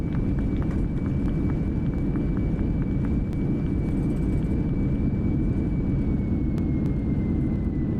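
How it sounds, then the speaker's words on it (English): Reverse thrust roars from a Boeing 737 MAX landing in Microsoft Flight Simulator 2024, a dense, steady broadband rumble with a thin whine riding on top, loud and unbroken throughout with no talk. "you can hear the reverse thrust"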